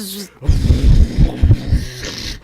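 A voice makes a low, loud buzzing drone close to the microphone, imitating a fly, throbbing unevenly for a couple of seconds.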